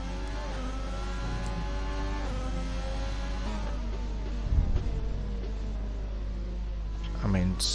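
Race cars in a racing video game at Bahrain scream along with steady, high-revving engine tones, one car zooming past with a pitch shift, a continuous mechanical drone throughout.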